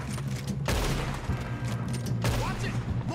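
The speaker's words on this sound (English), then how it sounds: "About the shooting in the Red Dead Redemption." Rapid bursts of gunfire crackle in Red Dead Redemption 2 during a train robbery, dense volleys at the start and again near the end, loud and close.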